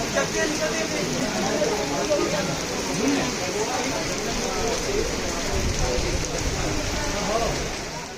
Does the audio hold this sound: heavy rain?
yes